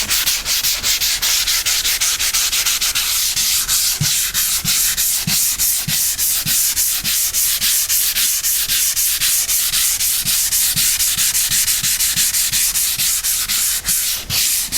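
Hand sanding dried joint compound on a drywall crack repair gives a loud, continuous scratchy rasp with fast, regular back-and-forth strokes across the whole patch, close up and with no talking.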